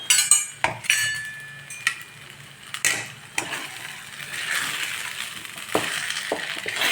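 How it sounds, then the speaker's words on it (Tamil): Red rice flour dough for upma kozhukattai is stirred in a pan, giving light scraping clinks of a utensil against metal with faint sizzling, steady and close, with no talk. "கொஞ்சம் அப்பப்போ கிளறி கொடுத்துக்கிட்டே இருக்கணும்"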